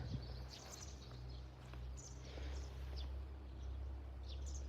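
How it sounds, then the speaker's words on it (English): Faint, scattered chirps from small birds carry through a Russian garden above a steady low hum, with no voices. "There's a lot of birds here that sing all day."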